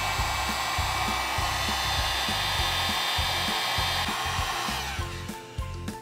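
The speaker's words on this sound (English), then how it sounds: "I take the heat gun." A heat gun roars in a constant loud blast while shrinking heat-shrink tubing over a repaired wire for an electric floor heating system, fading slightly near the end.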